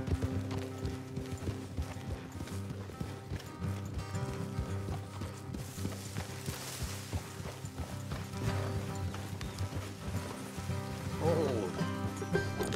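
Horses' hooves clip-clop steadily on a trail in Red Dead Redemption 2, mixed into a dense bed of game music and ambience, with occasional voices over it.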